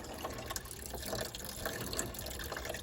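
Coolant water draining from the radiator drain plug of an E36 drift car, a steady trickling splash with small irregular drips, heard close and alone.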